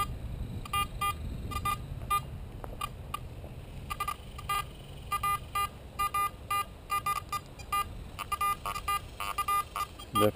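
A Garrett AT Gold or AT Pro metal detector sounding off on an iron target in a trashy park: repeated short electronic beeps in irregular bursts over faint background noise.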